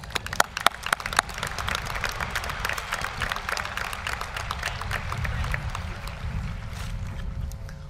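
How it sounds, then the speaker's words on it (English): An audience at Eastern Washington University's 2012 commencement ceremony applauds, a dense continuous patter of many hands that starts with a few sharp claps and holds steady for several seconds. "Please join me in a round of applause"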